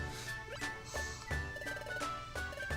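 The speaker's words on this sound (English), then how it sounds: "we got this notification again" Game notification chime from Pokemon Mystery Dungeon: Explorers of Sky, a bright repeating tone over steady background music, sounding several times in a regular rhythm.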